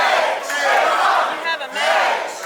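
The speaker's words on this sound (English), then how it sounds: "How about the Aaron chant?" A wrestling show crowd chants a wrestler's name in rhythmic, loud, massed voices, rising and falling in repeated swells.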